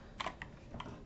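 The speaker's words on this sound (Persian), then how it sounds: "باز ما خوردیم به این کیبورد مشکل دار." A faulty computer keyboard gives three or four faint, separate key clicks in quick succession, very quiet with nothing else around them.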